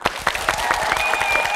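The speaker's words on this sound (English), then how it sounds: "If you do, clap your hands!" A group of children at an elementary school in Seoul clap their hands together in a quick, lively burst of sharp, overlapping claps, close and fairly loud, with a thin steady tone running underneath.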